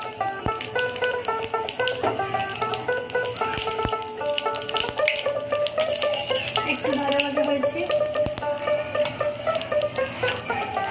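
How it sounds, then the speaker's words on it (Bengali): Bay leaf and cumin seeds sizzling steadily in hot oil for a fish curry tempering, a continuous close crackle with faint stirring clinks throughout. "ফোড়ন করার জন্য আরো খানিকটা তেল দেওয়া হলো, তেজপাতা আর জিরার ফোড়ন।"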